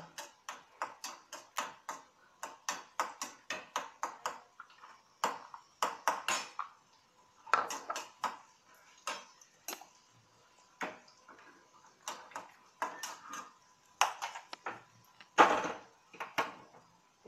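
Cashews and raisins roasting in ghee for sweet pongal give off sharp irregular crackles and pops, close and fairly quiet, in bursts with brief pauses between.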